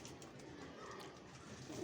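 Pigeons of a prized flying breed coo softly in a loft, low murmuring calls blended into a dense, faint background hum without clear breaks.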